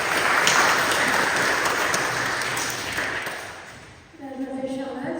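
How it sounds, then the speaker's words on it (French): A church congregation at a Protestant Sunday service applauds a child named Eva, a broad wash of clapping that gradually fades, then a voice begins speaking near the end. "on peut déjà l'applaudir."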